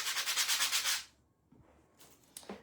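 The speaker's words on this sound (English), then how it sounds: "I'm going to sand the other pieces" Rapid rhythmic scratchy strokes of sandpaper rubbing painted craft pieces for about a second, then quiet with a few faint scrapes and taps.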